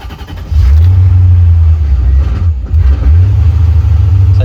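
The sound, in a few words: C4 Corvette engine cranking and revving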